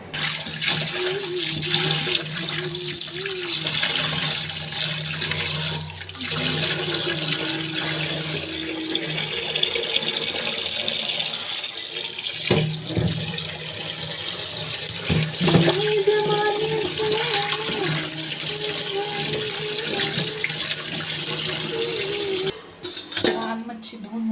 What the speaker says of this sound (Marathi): बांगडे वगैरे मी धुवून घेते